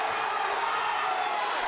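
A crowd roars steadily at a high school wrestling match, a dense, loud wall of cheering and shouting in a gym that holds throughout with no break.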